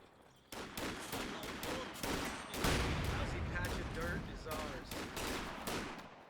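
Rapid bursts of rifle and machine-gun fire crackle through a Company of Heroes 2 firefight, overlapping volleys at close to mid range with brief gaps, loud and dense over the whole stretch.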